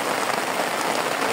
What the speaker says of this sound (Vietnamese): Đang nắng chang chang cái đầu mưa ngang luôn mà